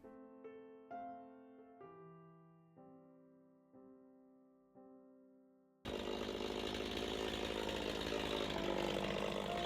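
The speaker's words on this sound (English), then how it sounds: "Dan gets to work cutting up the birch tree that we felled this morning" Chainsaw starting up and running loud and steady while cutting up a felled birch tree outdoors, coming in abruptly after a quiet stretch of soft piano-like notes and droning on without pause to the end.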